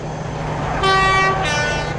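A brief, light toot from an Intercity 125 train horn in the Trainz Plus railway simulator, a steady harmonic blast of about half a second followed by a second short blast, heard over a constant low rumble of the train.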